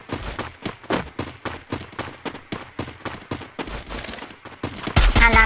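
Rapid bursts of gunfire in the Free Fire MAX game, sharp evenly spaced shots repeating through the whole stretch, loud and close, ending in a denser, brighter volley.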